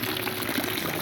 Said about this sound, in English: I got the hose running for about 40 minutes.